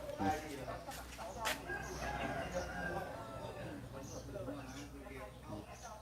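Roosters and hens at a fighting-cock stall in Thailand, with crowing and clucking spread through a busy, noisy scene while people talk throughout.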